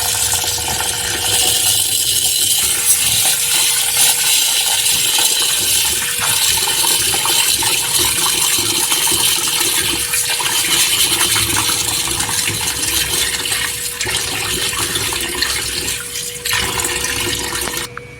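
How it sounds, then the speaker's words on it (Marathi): Tap water runs continuously into a bowl, swishing and splashing as beans are rinsed, close and steady throughout. "असं धुवायचं ह्याच्यामध्ये नळाचं पाणी आता टाकले"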